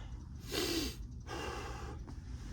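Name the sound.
deep breath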